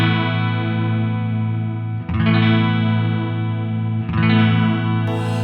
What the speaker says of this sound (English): So here is the chorus with everything set to like straight up. There's quite a vibrato-y thing going on here.